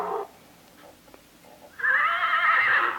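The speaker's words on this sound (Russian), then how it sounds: "Лошадь." A horse gives a short call, then after a quiet pause lets out a loud, drawn-out whinny, close and clear.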